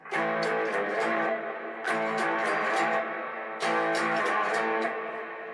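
Distorted electric guitar plays sustained chords in three repeating phrases, thick and saturated, with no voices.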